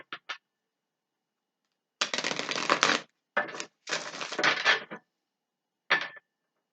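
Bursts of papery riffling and clattering as a tarot deck is shuffled, a few quick flicks then longer shuffles, close and crisp with silence between.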